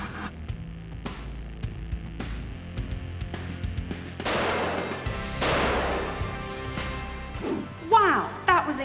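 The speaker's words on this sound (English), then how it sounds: "when it mixes with the oxygen in the tube, it should cause a big explosion" A hydrogen and oxygen explosion launches a small tube rocket: a loud sharp bang around the midpoint, with crackling bursts before and after amid background clatter and music, then a rising whoosh near the end.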